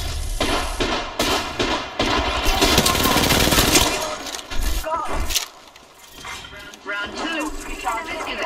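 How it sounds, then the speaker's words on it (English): Gunfire in the Apex Legends video game, loud repeated bursts of shots and impacts with players talking over the combat and a brief lull near the end. "I'm in trouble. They're shooting at me. Taking fire."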